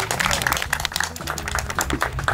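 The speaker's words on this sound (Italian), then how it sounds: "Applauso." Applause at a poolside blind-date event as the first girl arrives: a short burst of dense, steady clapping from a small group, close and lively throughout.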